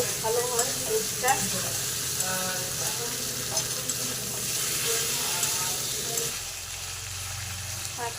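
Chicken pieces frying in hot oil for a Bengali chicken kosha, a steady close sizzle with repeated scraping and stirring strokes, fading slightly near the end.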